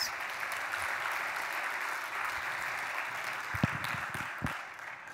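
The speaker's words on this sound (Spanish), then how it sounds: "Un aplauso para él, por favor" Applause from an audience for Javier Candau at a talk on the Ukraine war, a fairly faint, distant even wash of clapping with a couple of sharper knocks near the end.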